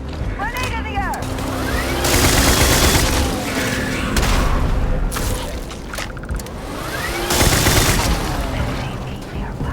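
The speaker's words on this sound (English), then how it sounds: "Grenade in the air!" A grenade explodes during a firefight in the Starfield game, with loud booms recurring every few seconds over sustained rapid gunfire and in-game voices calling out.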